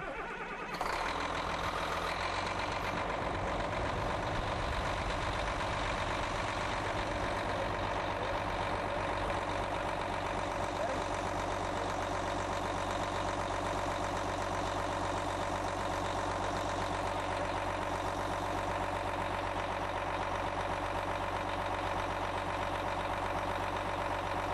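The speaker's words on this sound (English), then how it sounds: "I'm going to have my assistant go ahead and start the machine up for us now." A machine's engine, about to have its oil sampled, starts with a brief crank and settles into a steady, constant idle, rumbling and moderately loud for over twenty seconds with no talking.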